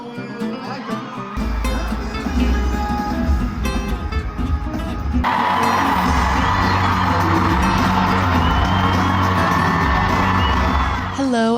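A big concert crowd at Madison Square Garden in New York City whoops, yells and cheers continuously, swelling louder partway through into a dense, sustained roar of voices.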